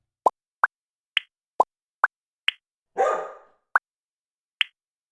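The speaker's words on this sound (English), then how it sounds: "There were 8 pop sounds." Eight sharp, isolated pops sound one at a time against silence, plus one brief, different noisy burst partway through.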